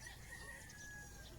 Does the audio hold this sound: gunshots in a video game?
no